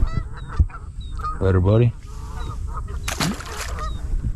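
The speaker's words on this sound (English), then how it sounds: "I don't think I can let the geese run us off our spot, man." Geese honk loudly and close by at a lakeside fishing spot, a burst of repeated calls that rises above the background before fading, with someone speaking briefly at the start.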